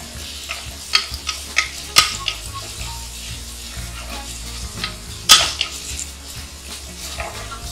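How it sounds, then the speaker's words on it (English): Finely sliced onions sautéing in oil in a pressure cooker for mushroom biryani, a steady sizzle with a spoon scraping and clinking against the metal pot now and then, including a couple of sharper knocks. "Let's add in the finely sliced onions. We'll saute it until it turns translucent."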